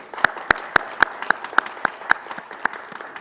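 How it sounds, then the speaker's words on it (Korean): A church congregation at a Christmas Sunday communion service gives a short round of sparse applause, several distinct claps spaced about a quarter second apart, fairly close and clear with no talk. "박수하겠습니다."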